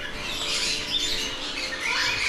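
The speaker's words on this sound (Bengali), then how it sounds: "আর এখানে অনেক পাখি আছে" Many birds squawking at a house, a dense close chorus of harsh overlapping calls throughout with no talking.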